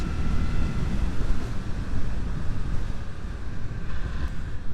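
Steady wind rush on a Suzuki GSX-8S motorcycle test ride, a broad constant roar buffeting the microphone throughout with a faint engine drone beneath and no talking.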